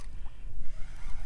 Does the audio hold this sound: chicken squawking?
no